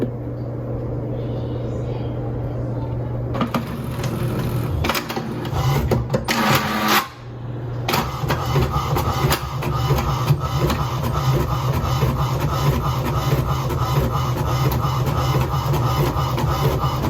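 A small HP printer running a print job of a schedule, with steady mechanical whirring and rhythmic feed clatter throughout, close and fairly loud, briefly interrupted by a short pause before the printing resumes.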